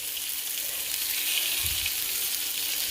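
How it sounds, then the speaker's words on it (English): Sausages sizzle and fry steadily in a pan alongside onions, a bright continuous crackle with a brief low clunk as one is flipped midway; no talking. "now we're going to start flipping sausages"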